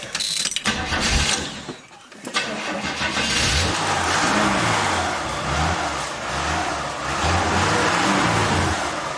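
A 1976 Chevy Nova with Thrush mufflers and no tailpipes cranks and fires up, then revs up and down with a loud, rumbling exhaust at close range and no talk.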